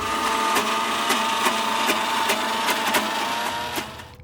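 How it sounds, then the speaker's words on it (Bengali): A mixer grinder churns green peas, a piece of ginger and green chillies, giving a steady motor whir with rhythmic knocking and rattling pulses that wind down at the end. "একটা মিক্সির মধ্যে অনেকটা কড়াইশুঁটি, একটু আদার একটা টুকরো আর কাঁচা লঙ্কা ফাটিয়ে"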